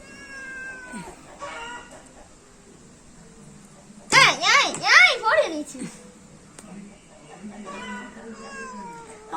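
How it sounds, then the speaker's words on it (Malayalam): A cat meows loudly several times in a quick, rising-and-falling burst, standing out over quiet background chatter and faint birdlike chirps. "പൂച്ചയാണ്."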